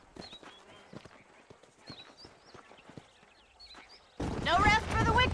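Horses clip-clop in the Western video game Red Dead Redemption, the hoof beats coming as a steady run of sharp knocks under game music and dialogue, before a louder burst of speech takes over near the end.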